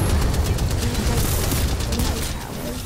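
A high-capacity gun firing in Titanfall 2, a continuous rattling burst of shots that stays loud and dense for the whole moment, tapering only slightly at the end.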